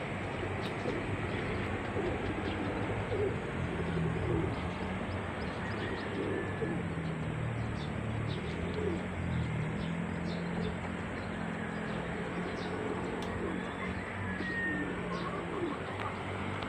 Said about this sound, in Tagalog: Lumilipad pa sila mga kalapatids.